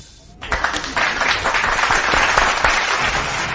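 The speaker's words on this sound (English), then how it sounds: "Everyone give a round of applause for Tanista." A sudden round of applause breaks out and sustains as dense, loud clapping for a few seconds after a brief quiet start.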